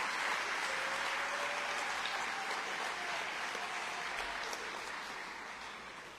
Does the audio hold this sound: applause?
yes